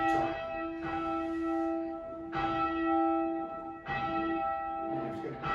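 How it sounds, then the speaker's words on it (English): A large church bell in St Martin in the Bullring, Birmingham, is rung by rope with its clapper striking one side, giving three loud, close strokes about 1.5 seconds apart, each leaving a long ringing hum. "the clapper hits the bell, and then you push the clapper back away again by pulling the rope"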